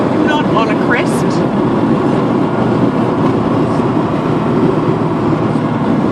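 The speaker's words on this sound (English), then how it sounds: "It's a road train." A steady, loud roar of a road train truck on an Australian country highway, with constant engine and tyre noise throughout and faint chatter early on.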